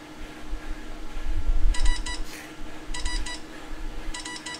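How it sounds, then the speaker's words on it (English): Mobile phone beeping during a Zwift virtual cycling race, three bursts of rapid high electronic beeps spaced about a second apart over a low background rumble. "It's my phone."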